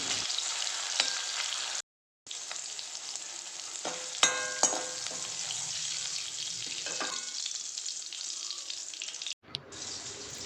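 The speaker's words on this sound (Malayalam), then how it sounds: "ഒന്ന് ഗാർണിഷ് ചെയ്യാൻ വേണ്ടിയാണ്. അപ്പോൾ അതുകൂടി ഒന്ന് ഫ്രൈ ചെയ്തെടുക്കുകയാണ്." Masala-coated prawns fry in hot oil as a garnish, a continuous close sizzle with scattered pops and stirring clatter, briefly cut off twice.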